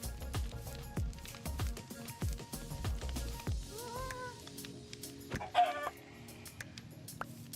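Chickens in the Minecraft Bedrock video game, heard as soft clucks amid busy footsteps and block clicks, with a couple of brief higher chirping calls near the end, all fairly quiet.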